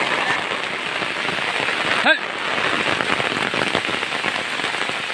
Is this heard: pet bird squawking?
no